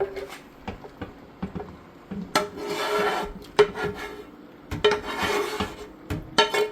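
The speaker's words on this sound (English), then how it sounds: "I'm gonna scrape this pan, get all this good sauce" A utensil scrapes rasta pasta sauce from a cooking pan in scratchy, uneven strokes, close, with clinks between longer rasping passes.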